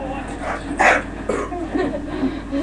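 A dog in a Medal of Honor game mod gives a short sharp bark, then a few softer yips, heard at low level over background game sound.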